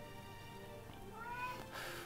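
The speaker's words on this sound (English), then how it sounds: "Shut up, cat." A cat meows once or twice nearby, a rising, drawn-out cry near the end over a steady background hum.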